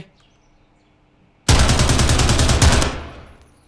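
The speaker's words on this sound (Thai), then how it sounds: "มีคนยิงว่ะ" Sudden close burst of automatic gunfire in the Rainbow Six Siege video game, a loud rattling string of rapid shots that lasts about a second and a half before fading, after a quiet lead-in.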